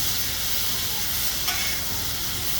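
Diced baby red potatoes sizzle in bacon grease on a flat griddle, a steady bright hiss with a faint crackle, continuous and close, with no talking.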